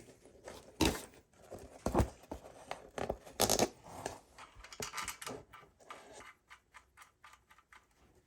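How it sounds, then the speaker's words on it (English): New Allen key bolts being dropped and threaded into an SX250 engine casing by hand, a run of close, light metallic clicks and ticks, irregular and quiet, with no talking. "So we got all new nice Allen key bolts here. Start throwing these in."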